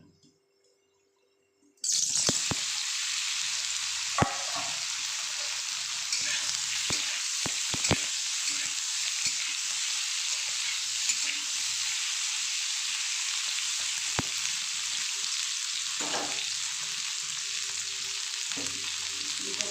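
Potatoes hit hot oil with dried red chillies and fry with a loud, steady sizzle after a short silent start, broken by a few sharp clinks and stirring scrapes.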